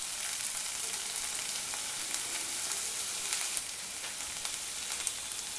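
Onions sizzle and fry steadily in a pan for mushroom masala, a close, even crackling hiss with small pops and a light stir partway through, no voices.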